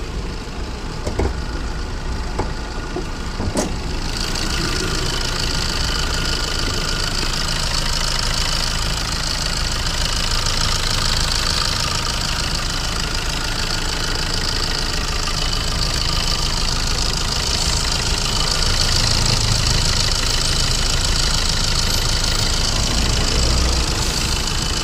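A 2015 Tata Zest XM car engine idles steadily nearby, a continuous even hum with a few faint clicks near the start and no talking.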